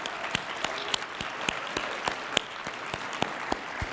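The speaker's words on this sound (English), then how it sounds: "If we could give them a round of applause" Audience applause at a Martin Luther King Jr. birthday celebration honoring the organizing committee, a steady wash of clapping with distinct sharp claps standing out at a fairly even rhythm, moderately distant and continuous throughout.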